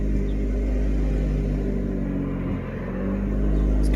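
A turbocharged Honda Accord idles after a slave cylinder replacement, a steady low rumbling drone with a faint hum on top, close and constant, with a slight dip near the end and no talking.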